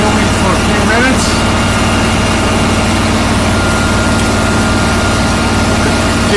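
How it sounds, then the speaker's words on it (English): A John Deere 445 tractor idling steadily for several seconds, a continuous low engine drone with a faint higher whine running at constant level throughout, heard up close. "tractor's been idling for a few minutes"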